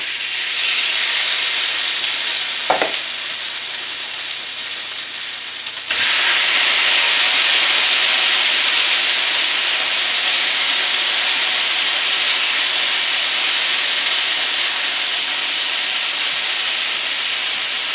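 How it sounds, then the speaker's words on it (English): Onions for San Antonio fajitas hit a hot pan, the loud broadband sizzle surging after a brief clatter and then holding as a steady, intense hiss. "We're going to throw our onions in this pan."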